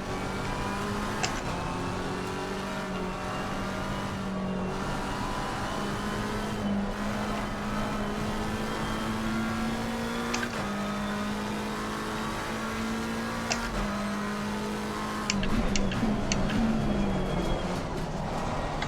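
McLaren GT3 race car in Assetto Corsa Competizione pulling hard under throttle, a steady engine drone stepping up through gear changes with sharp shift clicks, loud and continuous from an onboard view.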